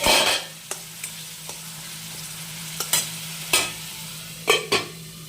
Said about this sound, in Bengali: এটাকে আমি সুন্দর করে ঢেকে একটু ভেজে নেব।